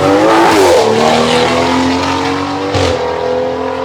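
A loud car roars close past with a revving engine and tyre noise, its exhaust crackling and popping as it goes by, then fading slightly.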